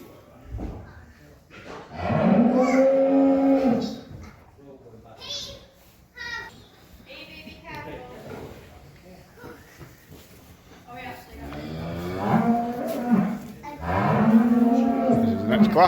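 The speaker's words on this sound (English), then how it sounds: "Cows are tied up." Cows on a family farm give long, loud moos, several times in a row, some overlapping. Speech and a child's babbling come in between the calls.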